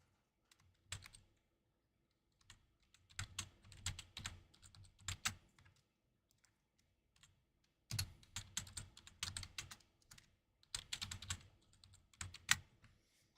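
Bursts of typing on a computer keyboard while setting up a randomizer, quiet close key clicks in irregular clusters separated by pauses, with no talk.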